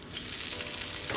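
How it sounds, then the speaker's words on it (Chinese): Shredded ginger sizzling in hot oil while steamed spottedtail morwong fish is being prepared, a soft, steady crackling fry heard up close and quiet, with no talking. "先爆香啲姜丝先"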